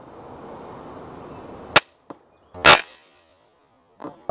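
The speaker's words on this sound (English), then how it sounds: "All right, so I took a couple shots." Broadhead-tipped bolts fired from a Bat reverse pistol crossbow, heard as sharp isolated cracks spaced apart, one especially loud with a brief ringing tail, following a faint steady outdoor hiss and with no talking.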